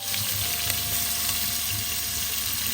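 Onions fry in oil with cardamom and bay leaf for mutton kurma, producing a steady, close, continuous sizzle over a brief stretch with no talk.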